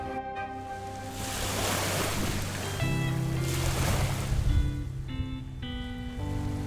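Sea waves wash onto the shore at Ilha do Governador in Guanabara Bay, a steady surging hiss that swells and recedes, with sustained musical tones playing underneath and no voices.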